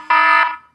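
A single electronic buzzer blares loud and steady for about half a second, then cuts off sharply, marking the end of a timed segment on a discussion show.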